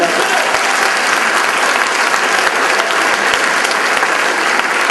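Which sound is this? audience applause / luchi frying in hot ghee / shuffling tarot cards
audience applause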